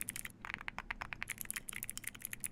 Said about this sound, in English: Clicky? Yeah, it's the mechanical keyboard.